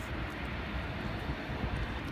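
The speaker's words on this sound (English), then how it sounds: "And what plane is this over here? It's a Pilatus PC-12." A Pilatus PC-12 airplane gives off a steady, unbroken engine drone that fills the whole moment at an even, moderate loudness, with no voices over it.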